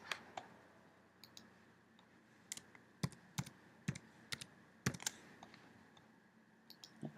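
Keys click on a computer keyboard, Alt among them, in a string of crisp, faint taps with uneven gaps, some in quick pairs, over a quiet room hum.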